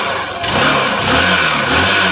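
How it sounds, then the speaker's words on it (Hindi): Honda Shine motorcycle engine running just after being started, a steady close mid-pitched hum that swells slightly as the throttle is opened, with no talk over it. "अब हमने बाइक को स्टार्ट कर दिया है।"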